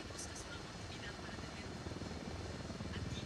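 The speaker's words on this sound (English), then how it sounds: "Need that chopper." A helicopter in the video game Ghost Recon Wildlands drones with a steady rotor chop, a dense low rumble that continues throughout and grows slightly stronger toward the end.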